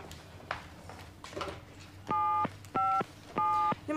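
Someone dials a telephone number on a keypad, giving three clear, evenly spaced dial-tone beeps after some quiet handling and shuffling noises in a room.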